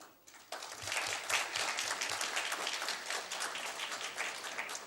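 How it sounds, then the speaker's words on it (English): Audience applause fills a conference hall after a short quiet moment, steady, dense clapping from many people that holds at an even level to the end. "PTA deserves a big round of applause"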